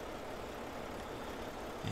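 A low, rough truck engine in American Truck Simulator rumbles steadily at idle with a lower, meaner tone, with a brief louder surge right at the end.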